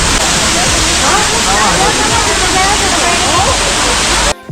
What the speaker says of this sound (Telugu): ఇవే భక్తాంగ్ వాటర్ ఫాల్స్ బాగున్నాయి కదా చూడడానికి